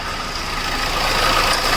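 A Hyundai Creta engine with a faulty water pump and a coolant leak runs close up, giving a dense, continuous mechanical whir and rumble that grows slightly louder, with no voices.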